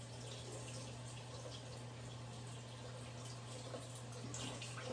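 Hot water runs steadily from a tap, likely a bathroom faucet used to rinse a brush, as a continuous even hiss with a low hum underneath and no talking.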